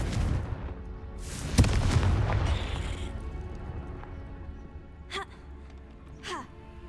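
A Confringo blast spell goes off in the Hogwarts Legacy video game: one loud, booming burst that rumbles and fades over a couple of seconds, followed later by two short, sharp magical zips.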